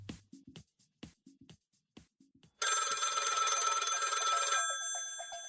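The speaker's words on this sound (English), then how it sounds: "The phone rings." A telephone bell rings loudly and steadily for about two seconds, then fades, following a stretch of quiet scattered knocks and faint sounds.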